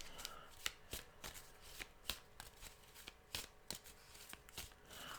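Tarot cards riffled and shuffled in quick rhythmic bursts, close and fairly quiet, with soft papery slaps between bursts and no talking.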